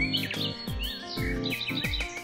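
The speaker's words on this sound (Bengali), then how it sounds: "সেখানে যেতেই মন ভরে যায় কিচিরমিচি শব্দে।" Many caged birds chirp and tweet at a pet fair in Chittagong, with a bird stall that includes Australian macaws. The calls come as dense, overlapping bursts of bright, high chirps and twitters, moderately loud and without talk.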